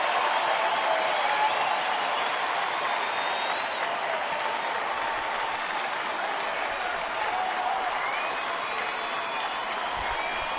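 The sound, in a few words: baseball stadium crowd applauding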